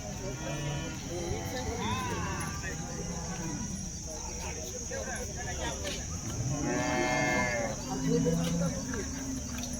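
Jersey cows at the Baramati cattle market moo repeatedly in drawn-out calls, loud and close, over a busy market hum with people talking throughout.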